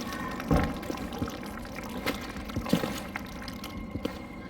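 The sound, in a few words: bubbling lava-like sound from a video game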